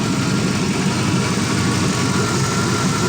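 A 4.8L Gen3 V8 engine on a run stand idles steadily up close, a loud, even rumble with a continuous low throb and no speech over it.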